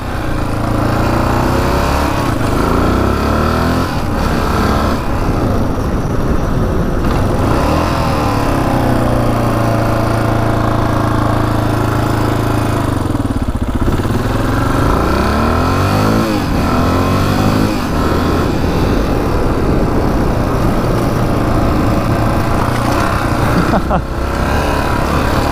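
A rare Honda 500cc motorcycle engine runs loud and close after years unused, its steady rumble rising and falling with revs throughout, while people speak now and then over it.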